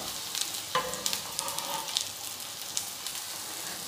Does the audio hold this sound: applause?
no